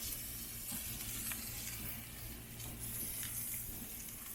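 A ribeye steak sizzling on a Masterbuilt Gravity Series 560 grill gives a steady, even hiss of frying fat that holds at a constant level throughout, with no voices over it.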